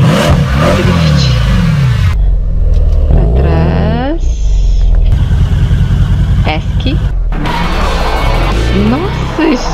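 A car in the video game Second Life revs and accelerates with rising and falling engine pitch, loud and close, as it drives and drifts, with someone talking over parts of it.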